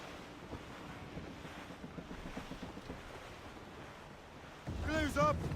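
Fierce squall wind and surging sea waves roll continuously around a sailing ship on open water in the Assassin's Creed Rogue video game, a steady loud roar with a brief tonal call near the end.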